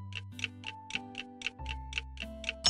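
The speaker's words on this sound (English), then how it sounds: "Can you help Donald quiet his alarm clock?" An alarm clock in a Mickey Mouse Clubhouse cartoon ticks in a steady, even rhythm, about four ticks a second, loud and close over a bright cartoon music bed, with no talking.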